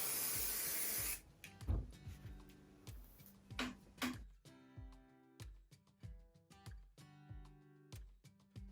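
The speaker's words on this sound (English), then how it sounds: "hit it with a little bit of hairspray" A hairspray can hisses once in a close, sustained burst over freshly curled hair, then cuts off and gives way to quiet background music.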